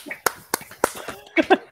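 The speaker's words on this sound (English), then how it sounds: "They do this poetry snaps." An audience at an author reading snaps its fingers after a poem, giving three sharp, evenly spaced snaps, followed by a person talking.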